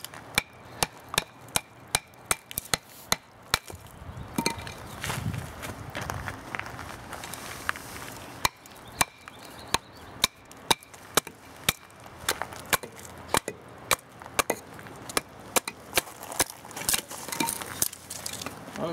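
A small Gerber Profile knife chopping into the corner of a log outdoors, sharp wooden knocks landing in a steady rhythm of repeated strikes, close and fairly loud, with some rustling between blows.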